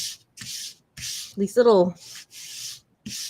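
Repeated rasping strokes of a sanding block on card, several bursts in an uneven rhythm, close by, with a brief voice sound in the middle.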